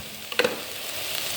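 Onion and tomato sauté in a pan, a soft steady sizzle with a short burst of scraping or stirring near the start, close and fairly quiet, no voices.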